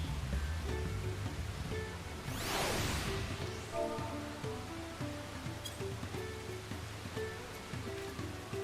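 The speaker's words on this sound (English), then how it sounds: "It is raining." Rain falling in Final Fantasy XIV: Dawntrail patters softly and steadily, with a quick whooshing sweep early on and sparse game music tones layered over the wash.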